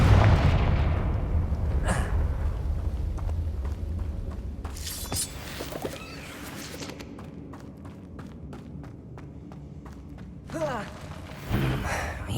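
A Confringo explosive spell in Hogwarts Legacy opens with a heavy booming blast that rumbles and fades. Scattered thuds, clatter and a few short bursts follow, with a voice heard briefly.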